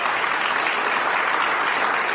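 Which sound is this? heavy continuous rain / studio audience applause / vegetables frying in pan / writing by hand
studio audience applause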